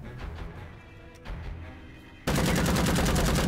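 Chain-shot gunfire in Empire of Sin erupting as a sudden loud, sustained burst of rapid shots after a quieter stretch of game ambience.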